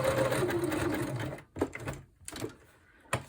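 A sewing machine stitches through material for a DIY prayer journal, a close, rapid mechanical whir that runs steadily before breaking into short stop-start bursts as the material is turned at a corner.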